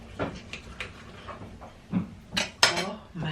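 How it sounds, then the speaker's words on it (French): Knife and fork clinking and scraping against a plate while cutting air-fried KFC-style chicken, several sharp separate clanks and scrapes spaced irregularly, with brief speech in French between them. "Alors voyons voir si on coupe."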